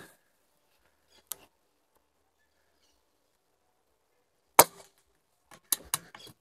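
A PCP M30 HellCat air rifle fires, a sharp, close, isolated crack, followed by a few fainter clicks and knocks of handling in quiet surroundings.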